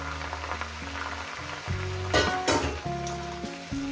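Mustard greens fry with garlic in a pan, a steady bright sizzle with a louder crackling surge in the middle, running alone throughout over a faint tonal hum.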